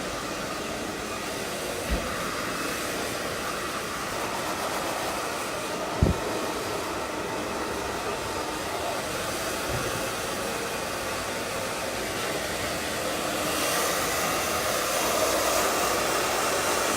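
A hair dryer power-drying long layered hair during a haircut, a steady loud whooshing roar held throughout with a few soft knocks, no talk.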